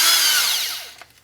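A Bosch 18V DDS181 cordless drill whines loudly close by, its motor pitch falling as it spins down and stops within about a second, with no talk.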